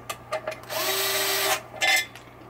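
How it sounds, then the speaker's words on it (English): A power screwdriver drives Phillips screws into the chime box of a 1976 Williams Grand Prix pinball machine, giving a brief whir, then a steady motor whine lasting about a second and a short final burst, all close by. "power screwdriver."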